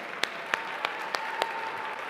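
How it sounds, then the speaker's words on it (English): An awards-ceremony audience applauds finalists and winners of specialist media awards in a steady, distant wash of clapping, with a few louder claps standing out at regular intervals. "A round of applause for them."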